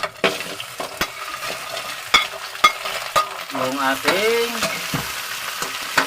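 Onions and garlic sauté in a hot pan alongside crab and octopus, giving a steady close sizzle broken by sharp clacks of a spatula stirring and scraping, with a brief bubbling burst near the middle.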